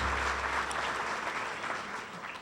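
Clapping from the audience at a 2017 Small Business of the Year awards ceremony, a fairly quiet, even patter of many hands that gradually thins toward the end.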